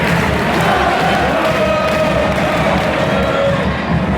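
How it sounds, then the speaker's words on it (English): A football stadium crowd at a Blackpool versus Stevenage match roars and cheers steadily to lift a player during a corner, a dense, loud, continuous wash of voices. "Crowd are trying to lift him."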